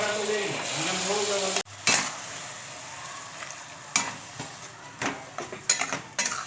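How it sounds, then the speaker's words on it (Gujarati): Tomato puree poured into a pan of sizzling spices with coriander-cumin powder, giving a steady frying hiss that gives way to scattered spoon clinks and stirring scrapes against the pan, close by. "હવે આપણે એમાં એડ કરશું ટામેટાની પ્યુરી"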